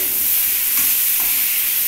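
A pan of pointed gourd curry fries while being stirred, with a constant sizzling hiss and a couple of soft scraping stirs near the middle.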